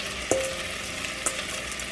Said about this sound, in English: let it kind of saute in there